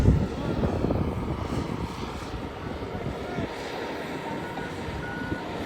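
A water truck's reversing alarm beeps faintly at a mine fire excavation site, thin tones half-buried under heavy engine rumble and wind while people talk nearby.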